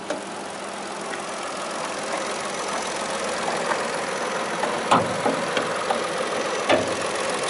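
A car engine idles steadily at a low, even rumble, with a few faint clicks and knocks scattered throughout.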